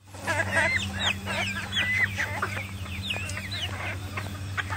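Several hungry hens cluck and chatter in overlapping bursts, fairly close, over a steady low hum.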